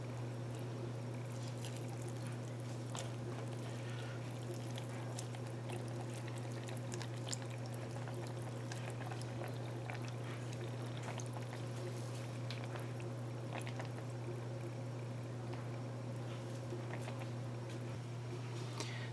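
Water poured onto a thickened spiral tie dye piece trickles and patters softly and continuously for a long stretch over a steady low electrical hum.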